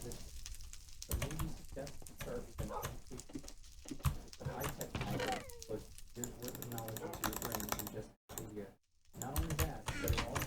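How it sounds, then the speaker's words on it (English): A dog whimpers and yelps in Minecraft with the Better Than Wolves mod, mixed with busy clicking of a computer keyboard and other game noise throughout. "Quiet down, you mangy mutt."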